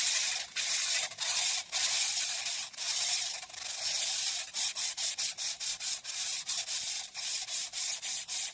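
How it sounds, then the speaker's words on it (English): Sandpaper rubbed by hand over a crankshaft during polishing, a loud, close, rhythmic rasping of long strokes that turn into quicker, shorter passes, with no talking. "after you go through all your grits of sandpaper"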